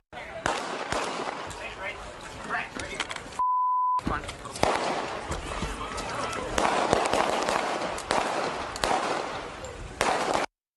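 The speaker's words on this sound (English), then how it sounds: "These seem to be gunshots." Sharp cracking bangs go off in irregular bursts, some distant and some closer, over rough background noise, with a brief electronic tone cutting in partway through.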